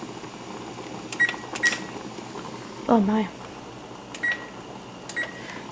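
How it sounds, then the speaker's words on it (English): Short electronic beeps from a kitchen timer being set to nine minutes while spaghetti water boils, heard in a quiet scatter of key chirps over a steady steamy hiss, with a brief spoken exclamation in the middle. "Now I'm going to set the timer at 9 minutes."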